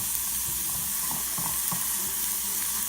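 Omelette ingredients, spinach and tomato, sizzle steadily in a pan, a close continuous hiss with a few soft scraping stirs and no voices.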